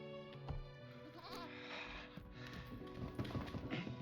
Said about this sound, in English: A crippled vampire chasing a baby goat.